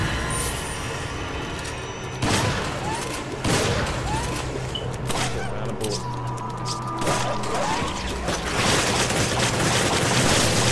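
Heavy gunfire booms in a Resident Evil 5 gameplay sequence, several loud, sharp shots spaced a second or so apart over a continuous game backdrop.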